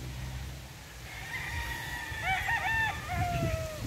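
Gamefowl roosters of bulik and Boston bloodlines crow in quick succession, with several overlapping calls rising and falling at moderate distance.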